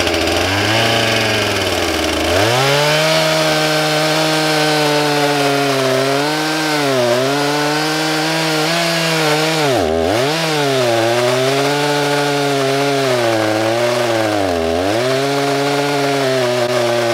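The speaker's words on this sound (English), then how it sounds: "just sharpened his steel chainsaw" A freshly sharpened steel chainsaw cuts through a log before milling, its engine snarling loud and close in a long sustained whine that dips in pitch several times as the chain bogs into the wood.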